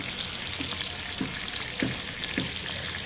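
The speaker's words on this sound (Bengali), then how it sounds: "গরম তেলে ভেজে নেব এক পিঠ করে, এক পিঠ করে উল্টিয়ে নেব।" Spice-marinated pumpkin slices fry in hot oil with a steady crackling sizzle, while a few soft rhythmic bumps from the pan or a utensil recur about every half second.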